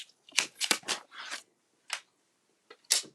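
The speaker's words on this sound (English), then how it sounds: "I just want to cut down my vellum so that it passes through the machine nicely" Cutting a sheet of vellum paper in half with scissors, a handful of short crisp snips and rustles, close and quiet with no talk.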